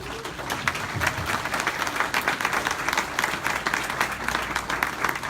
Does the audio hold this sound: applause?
yes